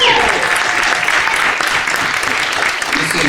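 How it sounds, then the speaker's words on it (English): Sustained applause from a conference panel audience, a dense steady clatter of many hands clapping throughout, loud and close with no pause. "Please, give them a round of applause."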